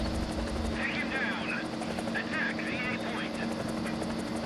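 An aircraft engine drones steadily in flight in the video game War Thunder, a constant close throbbing rumble with a low tonal hum, while someone talks over it.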